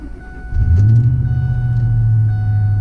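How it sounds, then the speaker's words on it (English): A factory-supercharged Ford truck engine cold-starts, a sudden crank then a deep, close rumbling idle that swells briefly and settles into a steady low drone. "Okay, let's do a cold start on this beast."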